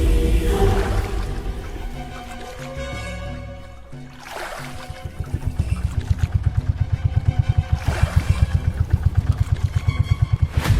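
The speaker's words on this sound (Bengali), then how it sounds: "এবার আমি নৌকাটা ঘুরিয়ে নিই।" Cartoon boat engine puttering as the craft turns on a river, a rough motor drone that fades then returns as a fast, loud rhythmic chugging, alone without voices.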